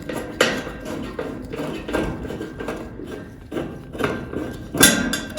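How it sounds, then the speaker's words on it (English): A long screw holding the outer panel of a Bryant/Carrier furnace is worked loose, producing a series of sharp metallic clicks and knocks, close and fairly loud, spaced irregularly. "this little circle knob here is a long screw that secures the outer panel to your furnace. Go ahead and unscrew that."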